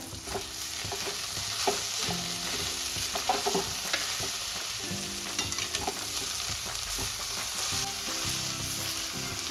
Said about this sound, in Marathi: तर आता आपण पुन्हा एकदा भाजी परतून घेऊयात.